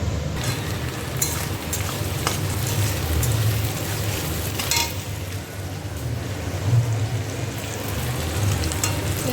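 Onions frying in a pan while ghugni is being cooked make a continuous broadband sizzle and hiss lasting several seconds. A few light clinks come through, with no voices.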